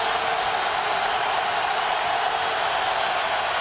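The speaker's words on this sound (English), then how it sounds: "Listen to this crowd" A dense, steady roar from a packed stadium crowd cheering at a 1997 NFL game between the Detroit Lions and Buffalo Bills, broad and continuous with no breaks throughout.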